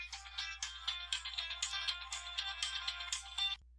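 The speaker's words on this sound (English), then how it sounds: "Sorry about the phone call there." Phone ringtone chiming a bright, rapid electronic melody for about three and a half seconds before cutting off abruptly, steady and clear with no voices.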